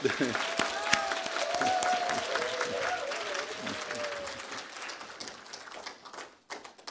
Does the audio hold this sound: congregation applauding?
yes